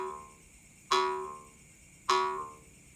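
A kuriding, a traditional Borneo jaw harp, sounds its low tone in two separate plucked twangs about a second apart, each ringing with buzzy overtones and fading away, heard close and alone.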